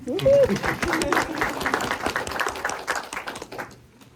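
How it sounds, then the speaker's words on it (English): An audience at a college information session claps in a brief burst that starts loud and tapers off over a few seconds, with a voice heard speaking at the very start. "Okay, round of applause, everybody."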